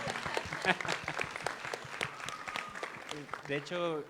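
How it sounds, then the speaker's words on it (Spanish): Audience applause, a dense patter of many hands clapping, with a voice speaking briefly near the end. "denle un aplauso porque es uno de los pocos que invierte"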